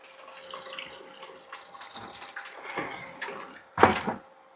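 Water runs from a tap into a container while nutrients are mixed, a soft, uneven splashing flow that ends in a brief louder gush near the end, with no talking.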